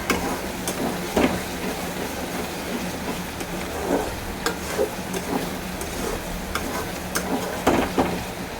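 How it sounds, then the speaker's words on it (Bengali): Spice paste with chopped tomato fries in a pan under a steady sizzle, while a spatula stirs it in repeated scraping strokes at an uneven rhythm, close and moderately loud, with no voices. "মশলাটা ভাজা হয়ে এসেছে"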